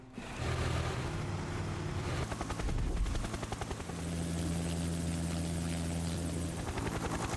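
Aircraft in the video game Front Mission whirring with a steady helicopter-like rotor chop, a continuous loud rhythmic drone with a pulsing beat throughout.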